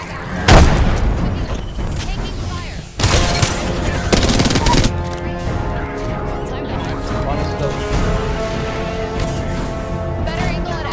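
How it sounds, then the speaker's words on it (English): Frag grenade blasts and bursts of automatic gunfire in Apex Legends competitive Arena play, loud and dense, with a sharp boom near the start and another around three seconds, then sustained firing with voices over it. "Tucking a frag grenade."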